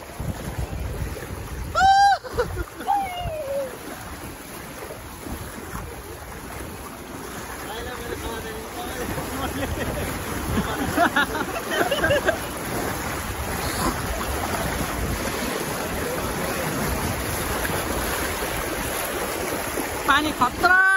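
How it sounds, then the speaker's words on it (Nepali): Water splashes continuously against a boat on open water, buried under heavy roaring wind buffeting the microphone for the whole stretch. "पानी खतरा हान्दैछ मलाई चाहिँ केटा।"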